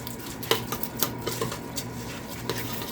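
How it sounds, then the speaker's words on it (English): Diced tomatoes being stirred in a pan for elk enchiladas, with a utensil scraping and tapping against the metal in irregular light knocks and clinks, close up, with no voices. "We're gonna stir that up really good."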